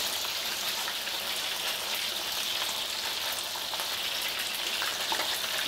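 Meat, just turned over, sizzles and crackles steadily in a hot frying pan, a dense hiss of spatters close by with no voices.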